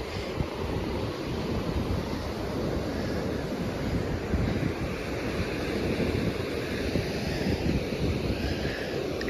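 River water rushes and laps in steady waves, mixed with heavy wind buffeting the microphone, a continuous broadband wash that stays loud and even throughout with no voices.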